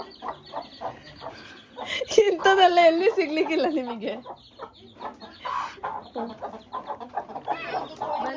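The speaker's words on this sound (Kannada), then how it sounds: "ಕೋಳಿ ಮರಿಗಳೆಲ್ಲ ಹೊರಗಿದ್ದಾವೆ ಕೋಳಿ ಮಾತ್ರ ಒಂದು ಒಳಗೆ ಉಂಟು" Chickens cluck nearby in short bursts, one hen giving a louder drawn-out cackle, while someone speaks over and between the calls.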